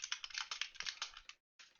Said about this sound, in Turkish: Çatır çatır çatır klavye sesi de garip geldi.